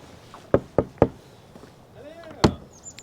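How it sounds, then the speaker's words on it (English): Knocks on a monastery door at Prinknash Abbey: three quick raps in a row, then a fourth after a pause, close and solid, with faint voices and a creak in the background. "Let's go and knock on the door and see if anyone's around."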